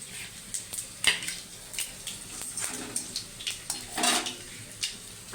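Spices tempering in hot oil in a wok for a rohu fish curry: a soft sizzle runs underneath sharp metallic clinks and scrapes of a utensil against the pan, with a brighter burst of frying near the end.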